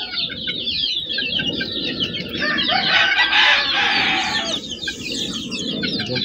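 A rooster crows loudly while several chickens cluck nearby, a steady chorus of farmyard fowl with no speech.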